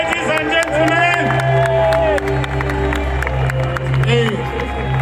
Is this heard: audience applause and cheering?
yes